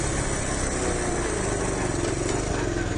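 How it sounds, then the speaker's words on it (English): A Honda CT110 motorcycle idles too high after a carburettor tune, giving a steady, fast, buzzy putter that runs unbroken at close range throughout. "At the moment, he's running his idle's too high."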